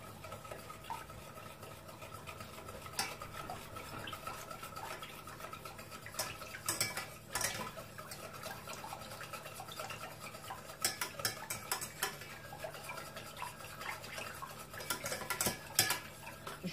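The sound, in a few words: stirring cornstarch and sugar into cold liquid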